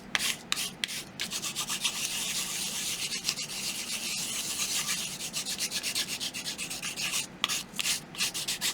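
A small wooden flower shape being sanded or filed by hand, steady close rasping strokes in a continuous rhythm with brief pauses.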